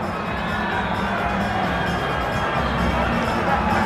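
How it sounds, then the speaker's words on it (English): Rugby stadium crowd at a South Africa versus New Zealand match, a constant broad roar of cheering and muttering voices filling the whole moment, steady and loud without a break. "So the crowd once again very excited"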